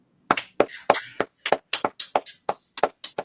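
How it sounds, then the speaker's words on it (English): Applause from a small group of people, with sharp separate claps at an irregular rhythm, close and fairly loud, for John Cena and AJ Styles. "both of them deserve a massive round of applause"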